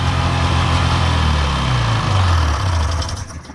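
A Polaris Indy Trail 440cc snowmobile, a 30th Year Edition, idles loud and close after repairs to its fuel lines, with a steady droning two-stroke rumble that rises slightly in pitch before tapering off.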